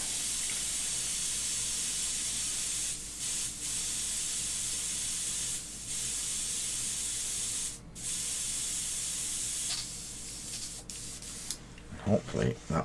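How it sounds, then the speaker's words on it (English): A spray bottle hisses liquid into a bucket during a model-building session. The spray comes as a long, loud, continuous hiss broken by a few short pauses, and ends in some clattering handling noises. "Let me just spray that into the bucket."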